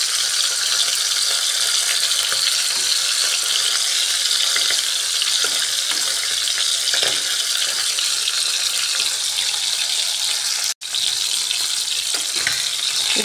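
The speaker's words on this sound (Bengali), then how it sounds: "মধ্যে মধ্যে এভাবে চিকেনটাকে ফ্রাই করে ভেজে বানালে টেস্টটা অন্যরকম আসে চিকেনের।" Chicken pieces fry steadily in a pan of hot oil, giving a dense, continuous sizzle that stays loud and even throughout, broken only by one brief dropout near the end.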